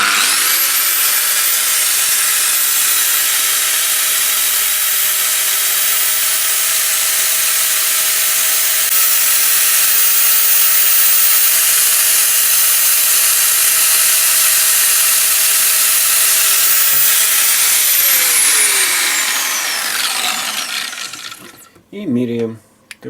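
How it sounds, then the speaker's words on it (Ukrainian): A Bosch GVS 9125 angle grinder runs at maximum speed with a loud, sustained high-pitched whine and steady motor hum, then spins down as it is switched off, followed by a few brief handling knocks. "кутова шліфмашина болгарка Bosch GVS 9125 s Ставимо максимальні оберти е, і пробуємо"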